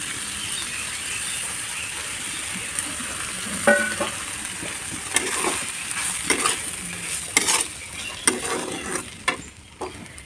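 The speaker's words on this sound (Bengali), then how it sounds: "আমি এখন সুজিটা ঢেলে দিই।" Roasted semolina poured into a hot pan for upma and stirred, a soft sizzling hiss broken by repeated close scraping strokes of a spoon against the pan.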